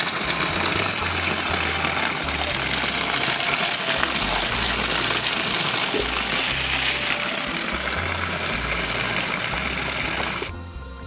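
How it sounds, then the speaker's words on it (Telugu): Water gushes forcefully from a pipe outdoors, a loud, steady rushing roar with a low mechanical hum beneath, cutting off abruptly near the end. "వాటర్ చాలా పోర్స్ మీద పైప్ నుంచి వస్తున్నాయి"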